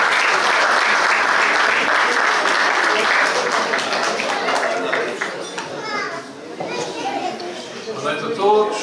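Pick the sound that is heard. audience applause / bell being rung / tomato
audience applause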